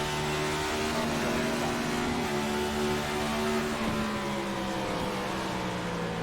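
NASCAR Next Gen Cup cars race in a video game at World Wide Technology Raceway (Gateway), with another car running right alongside; a loud, steady engine drone holds tonal lines that slowly shift in pitch over the whole stretch.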